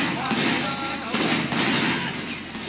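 Gunfire in the video game Sleeping Dogs, several sharp shots in a quick irregular burst over a busy game soundscape, fairly loud and close.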